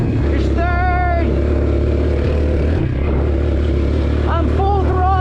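A Suzuki Ozark ATV, left sitting for years, runs at full throttle with a loud, steady engine drone as it climbs, and a voice briefly sounds over it.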